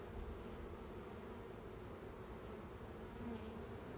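Dense, even buzzing of many bees from an open hive full of swarm cells, a steady close hum that fills the whole moment at a low, constant level with no voices.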